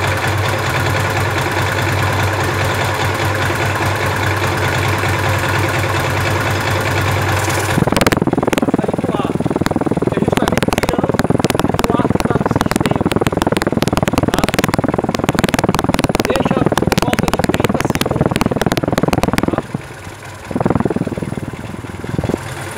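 Honda Falcon motorcycle engine idling while air is bled from its oil system, a loud, steady close-up chug with a sudden shift to rougher mechanical rattling partway through, briefly faltering near the end.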